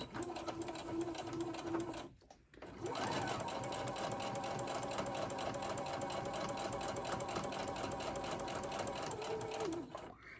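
A sewing machine stitches fabric for a candy cane ornament, running in a steady, fast whirring hum for several seconds after a short start and a brief pause, close by.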